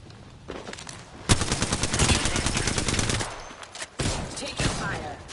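Sustained automatic gunfire from an Apex Legends firefight, dense rapid bursts running almost continuously with a brief lull before another loud volley, close and dominant in the mix.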